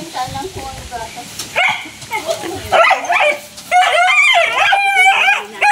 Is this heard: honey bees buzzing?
no